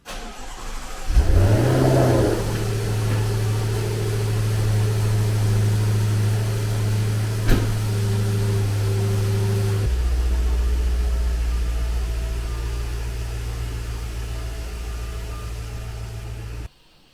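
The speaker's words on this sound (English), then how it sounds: "I've got to move these cars out of the way and put the Aston on the lift." An Aston Martin DB11 and other cars are moved around a garage: an engine cranks and fires at about one second, briefly revs, then settles into a steady, close idle that shifts tone midway and runs on until it cuts off.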